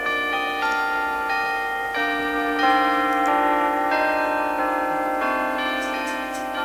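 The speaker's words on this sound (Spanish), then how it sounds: "El sonido de las campanas le sorprendió y corrió a la ventana para mirar afuera" Several church bells ring out in overlapping, sustained tones, struck one after another with a bright, resonant shimmer and no voices.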